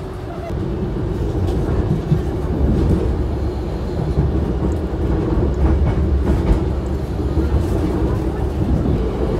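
An Argo Cheribon train on the Tegal–Jakarta route rolls along the rails with a steady, loud rumble and faint rhythmic clatter, heard from inside a carriage with some voices in the background.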